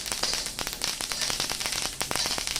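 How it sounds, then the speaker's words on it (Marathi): Flax seeds roast in a pan, crackling and popping in dense, irregular bursts of sharp little snaps, close and continuous, with no talking. "हे जवस पण भाजून घेते जवस भाजताना सुद्धा असे उडतात"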